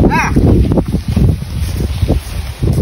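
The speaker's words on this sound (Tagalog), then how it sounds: "The weather is very good. So windy." Strong wind buffets the microphone outdoors, a continuous rough low rumble with gusts throughout, while people talk over it.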